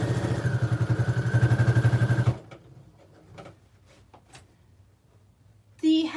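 A sewing machine runs loud and steady for a couple of seconds, stitching twice over a tote bag handle for reinforcement, its rapid rhythmic needle chatter stopping abruptly and leaving quiet handling noises and a brief clunk.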